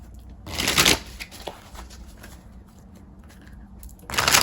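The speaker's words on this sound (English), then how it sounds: "Let's pull some tarot cards." A deck of tarot cards shuffled by hand, two loud riffling bursts up close, one at the start and one at the end, with quieter handling and soft shuffling in between.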